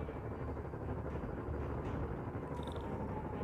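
Helicopters in a Spider-Man video game make a steady, loud whirring rotor drone that fills the whole stretch without pause, with no voices over it.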